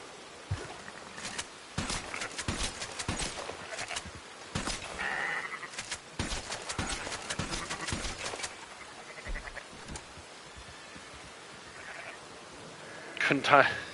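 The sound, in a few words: sheep and horse sounds in the video game Red Dead Online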